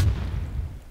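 A cannon fires in Minecraft with a single deep, booming blast up close, its low rumble decaying over about a second.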